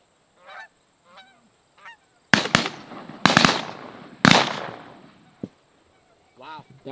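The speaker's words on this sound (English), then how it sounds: "That was good shooting." Shotgun blasts fired at geese over a cattle pond during a goose hunt, three loud close booms in quick succession amid honking geese, with a sharp crack after and voices speaking briefly.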